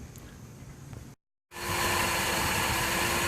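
A Chevy 496 V8 marine engine, set up on a vacuum test rig, fires up after a brief silence and settles into a loud, steady idle with broad rumbling noise.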